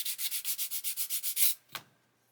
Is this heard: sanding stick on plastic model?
yes